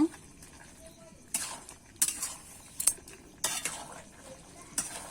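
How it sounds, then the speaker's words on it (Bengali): A spoon scrapes and clinks against a pan while stirring a Bengali bottle gourd and shrimp curry, several separate metallic strokes at irregular intervals over a soft background sizzle. "এবারে কিন্তু আমি ভালো করে নেড়ে চেড়ে নেব"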